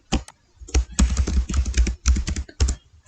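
Quick bursts of clicking keystrokes as C++ code is typed on a computer keyboard, close and crisp, in uneven clusters with short pauses between them.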